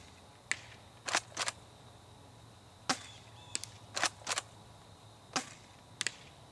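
Shots from a Double Eagle M56C tri-shot airsoft shotgun fired at a target outdoors: sharp snapping reports, several in close pairs, spread across a few seconds, each followed by faint clatter, with quiet between.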